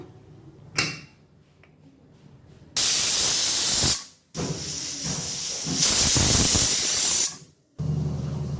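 A pressure cooker whistle releases steam while mutton biryani cooks, a loud sustained hiss that comes in long bursts with short breaks between them.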